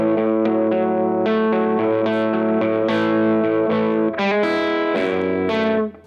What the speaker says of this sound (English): Here's the tone control being turned from off to full on.